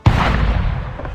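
Ship cannon fire in the Assassin's Creed 4 Black Flag video game, a sudden loud deep boom at the start that rolls into a long rumbling echo.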